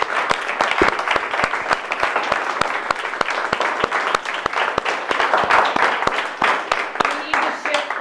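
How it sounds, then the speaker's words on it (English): Audience applause fills a town hall meeting held by Minnesota nurses, a steady wash of many hands clapping at fairly close range with sharp individual claps standing out, continuing throughout without a break. "Let's give yourselves a round of applause."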